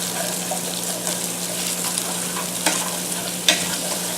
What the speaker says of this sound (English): Let that bacon start cooking a little bit